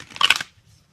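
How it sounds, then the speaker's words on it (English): Tarot cards shuffled once by hand, a short close papery riffle lasting under half a second, then quiet. "one last shuffle"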